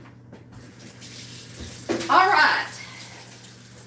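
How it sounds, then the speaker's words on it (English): Kitchen tap water running briefly as hands are rinsed, a short burst of splashing flow under a faint steady hum, with a voice speaking just before. "I'm rinsing my hands so that I can pick them up and get them in the oven"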